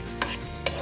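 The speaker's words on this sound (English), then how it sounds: "I'm going to mix around to allow it to fry too" A blended mix of tomato, bell pepper, onion and ginger is stirred as it fries in a pot, with two quick scraping strokes over a soft, steady sizzle.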